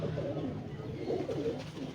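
Soft, low pigeon cooing from an Ali wale pigeon, a rare fancy breed kept by a Sialkot hobbyist, murmuring in continuous rolling phrases close by, with faint background noise.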